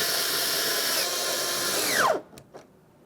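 A power drill runs a steady whine while snugging up 7mm mounting bolts on a 2015-2020 Ford F-150 rear door window regulator, then winds down sharply and stops, followed by a couple of soft clicks.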